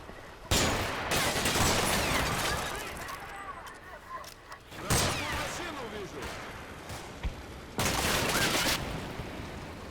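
Gunfire from a BMP armored vehicle in the Combat Mission: Black Sea war game, loud bursts of automatic fire in three main volleys separated by quieter stretches of distant shooting and battle noise.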